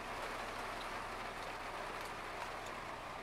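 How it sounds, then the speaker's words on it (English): Rain pours down in a steady, close, unbroken hiss with no voices. "I don't think this rain is gonna stop anytime soon"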